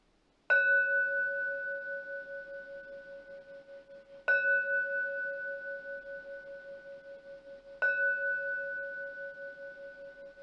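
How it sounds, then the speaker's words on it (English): A singing bell struck three times at slow, even intervals, each tone clear and resonant with a long ringing decay in a quiet meditation setting. "Connecting to the beautiful sound of the singing bell."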